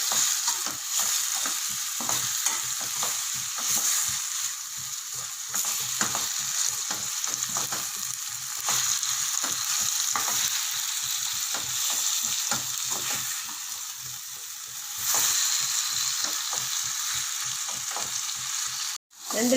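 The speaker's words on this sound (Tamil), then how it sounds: "மஷ்ரூம் ஆட் பண்ணதுக்கப்புறம் ஸ்டவ்வை ஹை ஃப்ளேமில் வச்சு 2 நிமிஷம் நல்லா கலரி விட்டுக்கலாம்" Mushrooms for sukka fry on a high flame in a pan, giving a loud, steady sizzle broken by repeated scraping stirs of a spatula, with no voices, ending in a sharp clatter.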